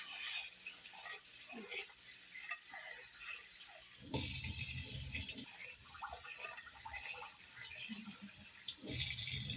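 Sago pearls are washed in water, with running and splashing water close by that swells into louder gushing bursts partway through and again near the end.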